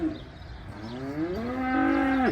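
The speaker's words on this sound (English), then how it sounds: "Good set of bred cows, guys." Cattle at a cow herd dispersal sale moo loudly and close by, with one long, drawn-out low call that rises and holds steady. No one talks over it.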